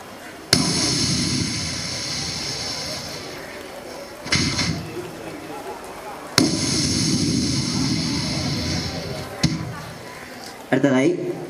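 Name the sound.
voice imitating a sky shot firework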